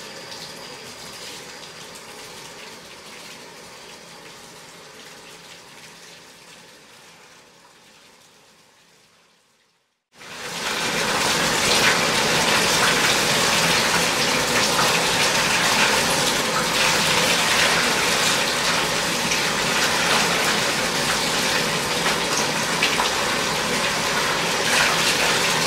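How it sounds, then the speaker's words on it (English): Water from a tap gushes into a bathtub to refill it for rinsing a down backpacking quilt. A quieter flow fades to near silence, then a loud, steady rushing fill continues to the end. "Now we will fill that tub back up"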